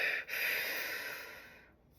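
A singer demonstrates a rowing breath for singing: a single breathy inhale of airy hiss, close and soft, with a brief dip near the start before it fades away.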